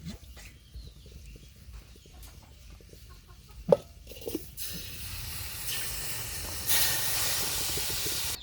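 Chitoi pitha cooks in oil in a pan, starting as a quiet steamy hiss that swells into louder, steady sizzling, with faint background clucks.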